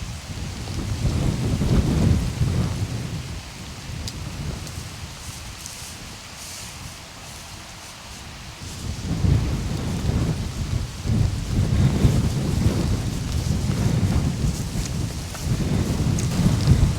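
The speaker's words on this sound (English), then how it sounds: "Okay, now it's starting to really rain." Heavy rain pours steadily outdoors while thunder rumbles in deep rolling waves, easing briefly in the middle before swelling loud again, with no voices.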